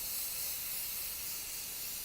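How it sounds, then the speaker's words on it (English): Hairspray sprayed over a pastel drawing as fixative, a continuous soft airy hiss lasting the whole stretch at even, fairly quiet level with no talk. "Now I'm using hairspray because I don't want to use the real fixative because it could be toxic."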